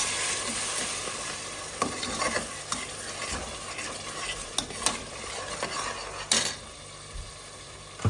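Steady sizzling as water is added to roasting spices in a hot pan, with scraping stirring and occasional clinks of a utensil, a continuous close frying hiss throughout.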